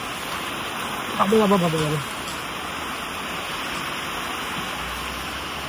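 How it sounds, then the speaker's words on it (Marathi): Steady rain falls with a constant, even hiss that fills the whole scene, while a voice briefly calls out near the start. "पाऊस आलाय आता."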